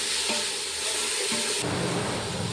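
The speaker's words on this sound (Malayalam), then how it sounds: "സവാള ഇട്ടതിന് ശേഷം നന്നായിട്ട് സവാള വഴറ്റിയെടുക്കാം നമുക്ക് നന്നായിട്ട് വഴറ്റിയെടുക്കണം" Sliced onions sautéing in a pan with fennel seeds while making chicken dum biryani, a steady close sizzle and hiss that keeps going with faint stirring scrapes and no talk.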